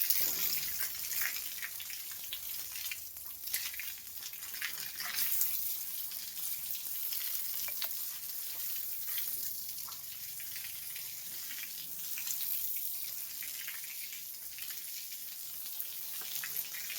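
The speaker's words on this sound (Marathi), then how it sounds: "या ठिकाणी सुद्धा मी पाणी मारून दिलं" A yard floor being washed down with water after sweeping away caked dirt, a steady hissing spray that runs continuously for the whole stretch, close and fairly loud, with scattered splatter and drip.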